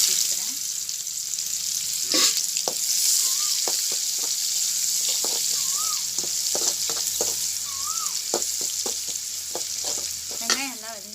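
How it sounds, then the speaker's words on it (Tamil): Onions frying in oil with fenugreek and fennel seeds for a fish curry, a steady close sizzle broken by frequent spatula scrapes and stirring clatters against the pan. "வெந்தயமும் சோம்பும் நல்லா பொரிஞ்சிட்டு நான் இப்போ வந்து வெங்காயத்தை சேர்த்துக்கிறேன்"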